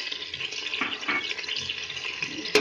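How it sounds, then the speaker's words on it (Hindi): Shahi cumin seeds dropped into hot oil give off a soft, steady crackling sizzle, close by and fairly quiet, with no voices over it. "हमारी ये तेल गर्म है, हम इसी में जीरा डालेंगे, ये शाही जीरा"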